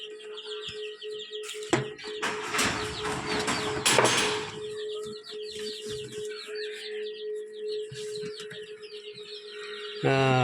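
Newly hatched chicks chirp inside an incubator, a dense, continuous chorus of high, rapid peeps over a steady mechanical hum, with a few louder knocks and rustles partway through.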